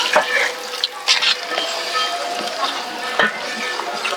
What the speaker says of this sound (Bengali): এখন হালকা নাড়িয়ে দিয়ে দিব পরিমাণ মতো গরম পানি